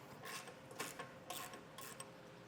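A ratchet fitted with a 16mm socket loosens a bolt during a base plate install on a 2023 Jeep Wrangler: four quick bursts of clicking, each a few tenths of a second, fairly faint and close.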